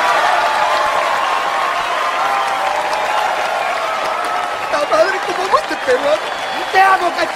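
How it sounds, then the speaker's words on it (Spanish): Applause from a crowd rises steadily and continues throughout, with a few chuckles and cheers emerging near the end. "Claro, aplausos, chicos,"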